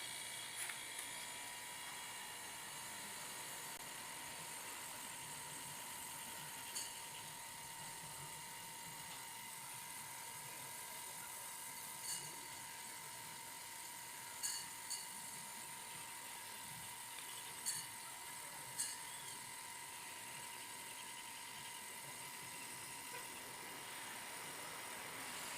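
A homemade air compressor's motor runs quietly and steadily, a faint even whine with a thin tonal hum held throughout, broken only by a few soft ticks.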